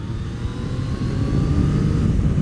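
Yamaha MT-09 motorcycle engine revving hard and building through the gears, a loud, steady low rumble that swells slightly toward the end, heard close with no talk.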